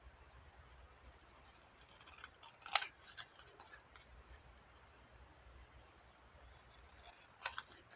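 Scissors snip paper during journal crafting, cutting out a white area, with one clear quiet snip in the middle and a fainter pair of snips near the end against soft room hiss.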